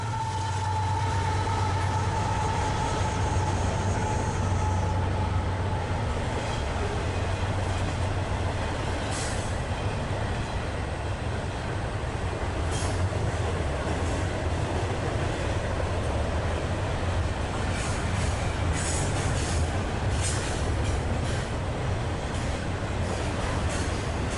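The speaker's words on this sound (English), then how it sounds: "A southbound intermodal makes its way through Pennington." Southbound CSX intermodal freight train passing through Pennington, a continuous loud rumble of wheels and rail cars with low engine drone, occasional metallic squeals and clanks throughout.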